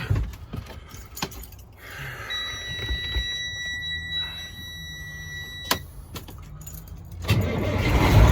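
A pickup truck with a faulty fan clutch cranks and fires up near the end, a loud burst of engine noise rising over a steady mechanical hum. Thin, high whining tones hold through the middle.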